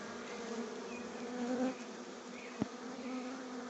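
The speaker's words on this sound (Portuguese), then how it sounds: "Essa abelha aqui é uma abelha sem ferrão," A Bugia stingless bee buzzes close by with a steady, thin hum that swells briefly midway, and a single short tap or click interrupts near the end.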